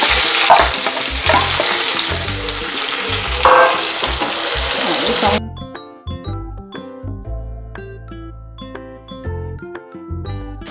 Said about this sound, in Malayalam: അപ്പം കടുക് പൊട്ടി ഇനി ചതച്ച് വെച്ചിരിക്കുന്ന ചെറിയ ഉള്ളിയും വെളുത്തുള്ളിയും കൂടെ ചേർത്ത് കൊടുക്കാം